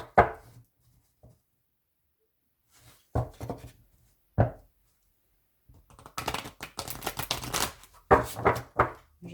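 An oracle deck of Kuan Yin cards is shuffled by hand, starting with a few isolated riffles and taps after long pauses, then building into a dense, continuous rustling flutter of cards near the end.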